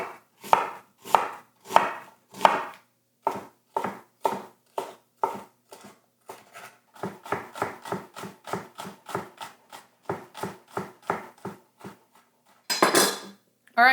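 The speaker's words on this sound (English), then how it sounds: "I tend to cut onion lengthways when I'm just slicing it instead of across the grain" A knife slicing an onion lengthways on a cutting board, a long run of crisp, evenly spaced chopping taps that quicken midway, with a brief rustle near the end.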